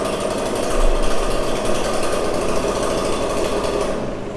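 Backpack leaf blower engine roars steadily at close range after a pull start, a loud, rough, unbroken drone without speech.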